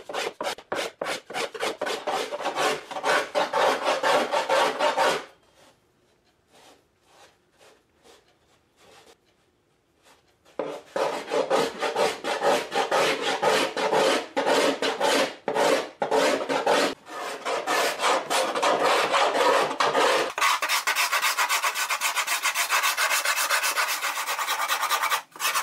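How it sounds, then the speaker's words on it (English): A wooden archtop guitar soundboard plate is being carved by hand with a tool that scrapes and rasps in quick, steady strokes. Close, continuous bursts of carving are broken by a few seconds of near silence. "so I'm going to keep carving now"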